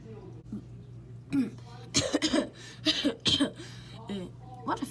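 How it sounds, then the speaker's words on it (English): A few short, forced coughs and throat-clearing bursts over a low steady hum, close to the mic, with brief voice sounds mixed in. "What a fake cough."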